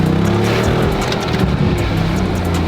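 Replacement V12 engine for a crashed Lamborghini Murcielago, running steadily in a garage with a dense, continuous low drone and layered harmonic rumble, loud and close throughout with no pauses.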